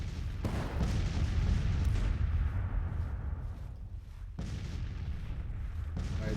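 Heavy artillery fire rumbles through a Civil War strategy game battle, a dense barrage of booms and gunfire with sharp blasts near the start and again midway, loud and continuous without speech.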